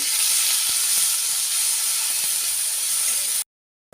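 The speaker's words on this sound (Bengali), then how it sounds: "এই নারকোল বাটাটা এর মধ্যে দিয়ে দেবো গ্যাসের ফ্লেমটা কিন্তু একদম লো করে রাখতে হবে" Coconut paste frying in a pan over a low gas flame for a prawn dish, a loud, steady, close hiss and sizzle with faint stirring taps, cutting off abruptly near the end.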